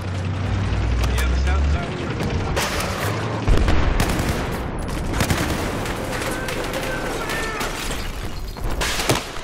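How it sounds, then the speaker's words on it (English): In Battlefield 4 on the Siege of Shanghai map, the skyscraper collapses with a heavy rumbling roar that swamps rapid gunfire, loud and dense throughout with mechanical clatter and bursts of shots. "I find it kind of cool how the noise of the tower coming down muffles your gun."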